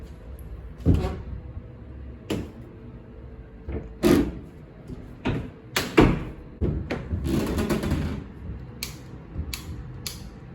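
Sliding doors in a budget hotel room in Bali rattle and thud repeatedly as they are opened and closed, with sharp knocks and scraping runs, close and fairly loud.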